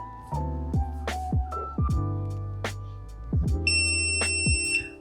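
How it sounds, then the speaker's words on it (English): A RACT keypad emitting a series of short electronic tones as a code is entered and accepted, several distinct beeps spaced irregularly, ending in a brighter higher confirmation tone; close and clear with no talk. "Once we hear that beep, it means it's been accepted, so your code is now programmed."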